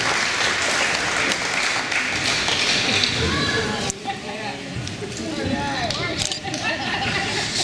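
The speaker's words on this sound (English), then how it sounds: "So could you guys give Floyd Buck Jordan a hand of applause, please" Audience applause at a ceremony: a gathered crowd claps steadily throughout while people talk over it, with a brief dip midway before the clapping resumes.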